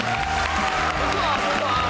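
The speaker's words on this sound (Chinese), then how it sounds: "来，掌声送给我们杀厨师长" A Chinese TV talk-show studio audience applauds the chef, a dense continuous wash of clapping with some crowd noise and voices mixed in, fairly loud and close.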